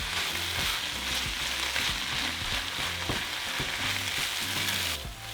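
Potatoes and meat being stirred together in a hot frying pan, a loud steady sizzle with repeated rhythmic scraping and clacking of a utensil, no voices.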